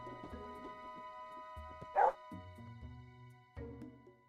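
A therapy dog in a therapy simulator video game gives a single short, bright bark over a quiet bed of game music.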